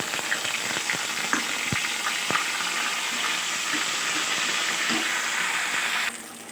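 Grated ginger sizzles steadily in hot oil in a pan, with scattered scraping ticks from stirring over the hiss, before the sound drops off abruptly near the end. No one speaks.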